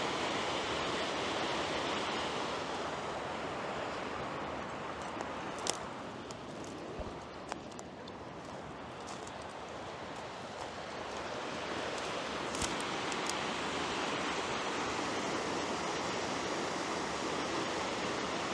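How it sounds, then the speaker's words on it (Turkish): Macun creek pouring into Ankara stream at their confluence, a steady broadband rush of flowing water heard up close and continuous, with no voices. "Macun Deresi'nin Ankara çayı ile buluşması."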